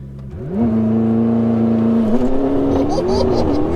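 A 1014 bhp McLaren MP4-12C launches with a loud, steady engine roar that climbs in pitch as it accelerates hard, with wheelspin; close and continuous, with people talking over it.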